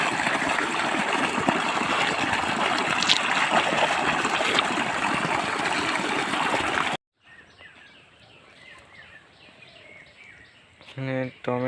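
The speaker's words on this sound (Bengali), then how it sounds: "এখানে জল পড়ছে" Water pouring steadily into a farm field on a foggy winter morning, a loud continuous close rush and splash that stops abruptly partway, leaving quiet outdoor ambience with birds and a voice at the end.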